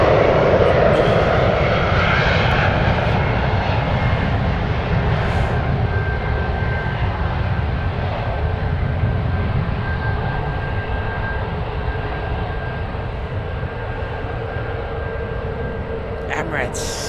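Emirates airliner passing at San Francisco airport, a broad steady jet roar that slowly fades over many seconds, with a thin high whine running through it and a voice talking over it.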